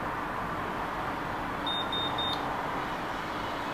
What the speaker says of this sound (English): it will just kind of beep when it's ready